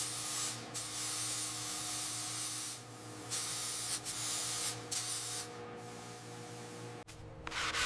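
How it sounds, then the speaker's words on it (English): Primer sprayed in long hissing bursts onto the patched body of a 1923 Franklin Series 10 sedan, several passes with short breaks between them, close and steady over a low background hum. "This area needed some patching and a quick prime."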